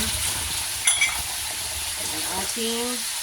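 Pork cubes sizzle and fry steadily in a pan after water is added while cooking pancit, a continuous close crackling hiss with a few faint clinks of a utensil.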